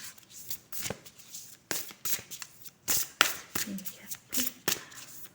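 Oracle cards shuffled by hand in a series of quick riffling bursts with short pauses between, close and moderately loud, over faint background voice.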